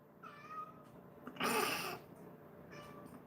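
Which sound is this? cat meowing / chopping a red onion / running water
cat meowing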